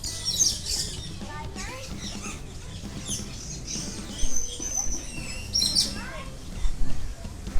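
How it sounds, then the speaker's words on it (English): Birds chirp and tweet inside a zoo aviary exhibit, scattered bright calls over a busy background with people talking nearby. "there are some really incredible birds in this exhibit"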